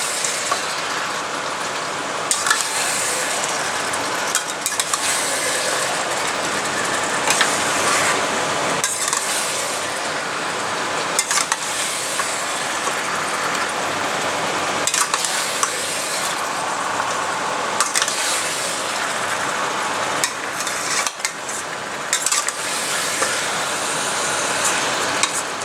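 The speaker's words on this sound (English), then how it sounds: "So now continue to stir this till the muttons are little semi-fried." Mutton pieces sizzle steadily in hot oil while being stirred in a pan for a garlic mutton dish, a continuous close frying hiss with occasional scrapes and no talking.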